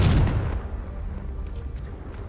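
A booming fiery blast from the Confringo spell in Hogwarts Legacy erupts loud at the start, then decays into a rumbling, crackling tail that lingers for a couple of seconds.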